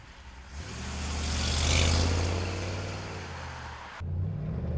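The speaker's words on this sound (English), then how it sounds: "let's go for a ride in our 48 Ford pickup truck" A 1948 Ford pickup truck drives steadily down the road, its engine a low, continuous rumble that swells gradually and then eases before cutting off abruptly near the end, heard alone with no talk.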